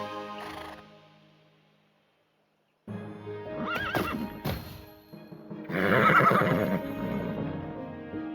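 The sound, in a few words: horse neighing and hooves, Tiny Tina's Wonderlands video game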